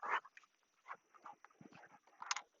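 A hunting dog being introduced to live flying birds during training gives short whines and yelps in several bursts, fairly close and moderately loud, with scattered rustling between them.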